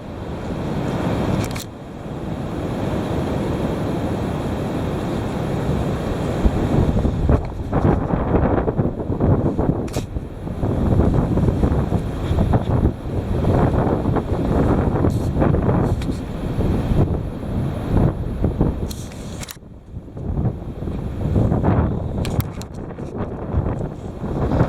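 Heavy wind roars steadily and loudly against the microphone for the whole stretch, a dense low rumble with gusty surges and brief dips, no voices.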